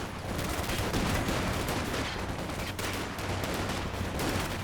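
Continuous machine gun fire in a Company of Heroes 2 3v3 battle on the Port of Hamburg map, a steady dense rattle of rapid shots with no pause, loud and filling the whole stretch.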